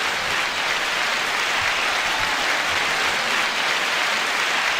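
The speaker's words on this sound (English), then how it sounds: "9-second applause." Steady applause rolls on evenly from a live audience, a dense wash of clapping held at a constant level without pause or voices.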